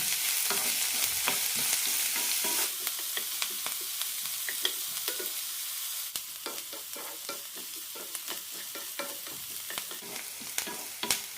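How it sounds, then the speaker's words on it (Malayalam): Onions and green chillies sautéing in a pan, a continuous close sizzle with frequent scraping of a spatula stirring, no voices. "സവാള ട്രാൻസ്പെറൻ്റ് ആകുന്നവരെ വഴറ്റിയെടുക്കാം."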